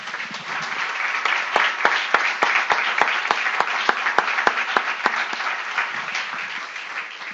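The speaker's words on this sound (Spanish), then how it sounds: "Démosle un aplauso al Señor, hermano." A church congregation breaks into sustained applause during a Spanish-language worship service, dense clapping with some sharp louder claps, steady and full for the whole stretch without talk.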